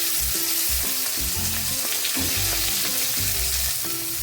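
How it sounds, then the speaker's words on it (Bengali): Shrimp frying in a pan for a home-cooked shrimp and potato curry: a steady, close sizzle with repeated soft scraping and stirring knocks throughout, no voices. "চিংড়ি মাছটা বেশ ভালোই মোটামুটি করে ভাজা হয়ে গেছে"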